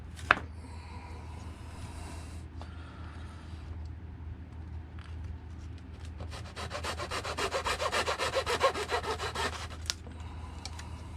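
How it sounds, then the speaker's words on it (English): A razor saw cuts through a balsa wing piece for an F3-RES 2 m glider, starting as a quiet scrape and then turning into a rapid, rhythmic back-and-forth rasp near the end, close up and unaccompanied by talk. "razor saw. Just cut this piece right here at a 45-degree angle almost, maybe a little more."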